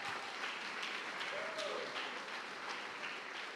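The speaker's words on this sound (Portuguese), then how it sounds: "Pode aplaudir o Senhor." A church congregation applauding steadily throughout, a dense wash of clapping that stays even and fairly distant without a clear break.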